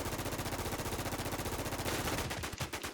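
Rapid automatic gunfire in the survival shooter WarZ, a fast even stream of close, loud shots that runs for most of the span before breaking into a few scattered bursts and stopping.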